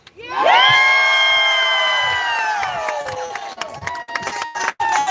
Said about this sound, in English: Let's hear a big yell.